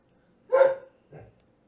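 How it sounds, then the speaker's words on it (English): Two dog barks, a sharp loud one followed by a softer, shorter one after a brief pause, with quiet surroundings. "hopefully she'll stop barking"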